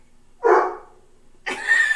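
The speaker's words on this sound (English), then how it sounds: "It barks at you." A single short bark, close and fairly loud, rings out over silence, followed by a brief higher yelping burst a moment later.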